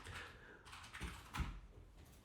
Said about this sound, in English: there's lots of people typing